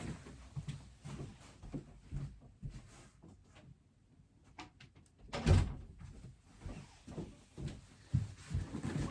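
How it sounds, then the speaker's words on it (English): An office door closing with a soft thud partway through, amid quiet room rustle and shuffling; no speech. "Let me just close my office door 1 second."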